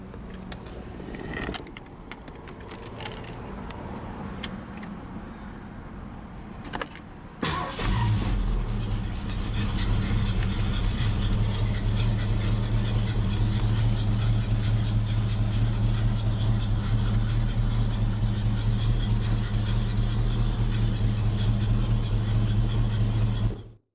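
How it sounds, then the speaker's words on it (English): Keys jangle and a few clicks come first, then a 1973 Ford Mustang convertible's engine cranks and starts, settling into a loud, steady idle. "Now we'll go ahead and start her up."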